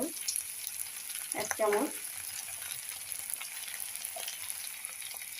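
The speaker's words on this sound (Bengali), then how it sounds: "আমি সেদ্ধ করা কড়াইশুঁটি দিয়ে নেড়ে নেব" Boiled peas stirred into a frying cauliflower singara filling in a pan: a steady low sizzle with a brief burst of scraping and stirring, then quieter frying, with a short spoken word near the end.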